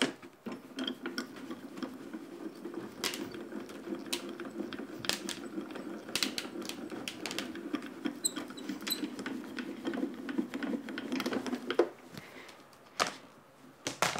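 A craft die-cutting machine cranks paper and an embossing die through its rollers, giving a steady mechanical grinding rumble with ratchety clicks for about twelve seconds before it stops.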